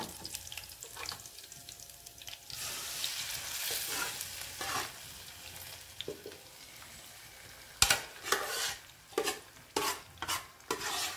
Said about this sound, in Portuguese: Começando a querer fritar.